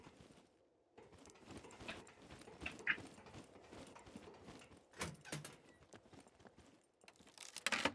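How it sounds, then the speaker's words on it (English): Inside the survival game Scum, a dog barks somewhere outside in faint, scattered bursts, mixed with light clattering and jangling noises in a quiet setting. "Oh, dog's barking."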